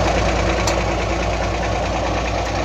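A bus's front-mounted diesel engine idling close by, with a loud, steady, low rumble and a faint rhythmic knock that carries on unchanged throughout, with no talking.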